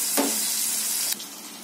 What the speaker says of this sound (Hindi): अब इसको मैं फ्राई करके निकाल कर भी दिखाती हूँ आपको